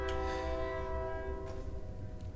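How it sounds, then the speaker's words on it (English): A passing train sounds its horn in the game Legendary, a long steady sustained blast that holds for the whole stretch, at moderate distance over a low rumble. "Well, there's the train."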